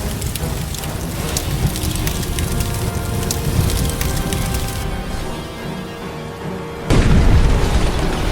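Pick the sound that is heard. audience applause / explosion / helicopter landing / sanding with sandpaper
explosion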